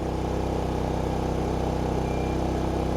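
A portable generator engine drones steadily and loudly at close range, a constant low rumble with no change in speed throughout.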